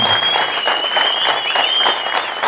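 Audience applause fills the whole moment, dense and steady clapping from a crowd at a club gathering, loud and continuous with no pauses.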